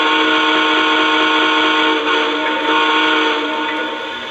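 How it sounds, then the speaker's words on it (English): A Lionel Hiawatha TMCC model train set with Rail Sounds sounds its steam whistle: a loud, sustained, chord-like whistle that holds steady and then tapers slightly at the end. "let's listen to the actual whistle here."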